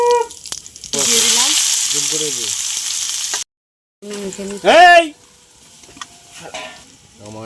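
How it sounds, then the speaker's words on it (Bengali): Cumin seeds dropped into hot oil left in a wok after frying papad, hissing in a bright burst of sizzle for a few seconds before cutting off, with a voice speaking before and after. "তো কড়াতে আমি সাদা জিরে দিয়ে দিলাম"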